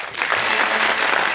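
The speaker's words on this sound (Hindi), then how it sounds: "आप लोगों की भरपूर तालियों में एक बार फिर।" Hearty applause from a studio audience on a talk show, a brief dense burst of many hands clapping at full volume with no talk over it.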